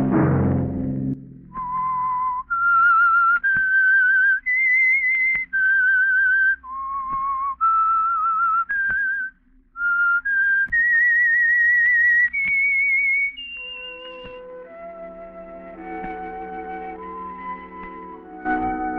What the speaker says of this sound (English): Let that whistle be your signal for the Whistler.